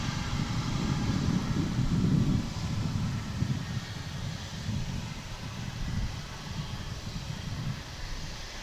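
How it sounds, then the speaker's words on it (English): A Boeing 757 jet roars steadily at DFW airport, a broad, loud engine rumble swelling early and then holding as a constant wash of noise throughout, with no voices. "The 757, another plane we don't see here in a passenger configuration here at DFW anymore."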